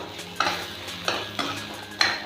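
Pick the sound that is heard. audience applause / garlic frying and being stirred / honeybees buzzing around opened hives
garlic frying and being stirred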